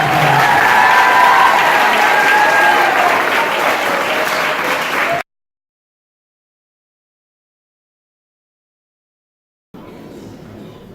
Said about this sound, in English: Students, we give them a round of applause.